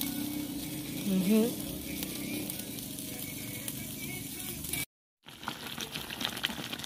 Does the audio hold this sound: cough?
no